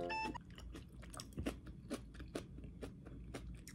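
Close, crisp crunching and biting of food followed by steady chewing, with repeated sharp crackly bites standing out above a soft background over a few seconds.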